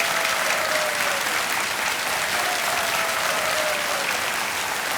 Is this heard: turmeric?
no